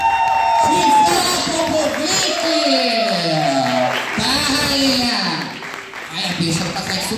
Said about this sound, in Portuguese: Mais aplauso.